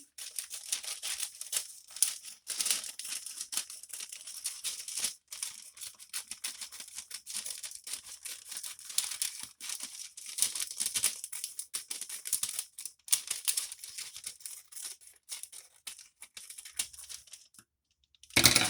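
Scissors cutting a circle out of parchment paper to line a cake pan, a long run of quick crisp snips and crinkling paper, close and fairly faint, with no talk.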